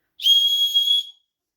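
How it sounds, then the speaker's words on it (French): A single sharp, high-pitched whistle blast, shrill and steady for about a second, then silence. "il y a sur cette attache un petit sifflet"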